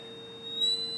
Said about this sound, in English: That's the coil producing ozone right now.